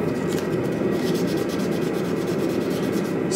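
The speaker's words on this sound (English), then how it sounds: "Still sanding." A Damascus steel Santoku blade is sanded by hand, a steady continuous abrasive rubbing that holds close and even throughout with no pauses.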